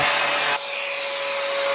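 A vacuum cleaner sucks air out of a bag, a loud, close, hissing roar with a high whine that drops suddenly in pitch and strength after half a second as the bag seals, then continues as a steady, lower drone.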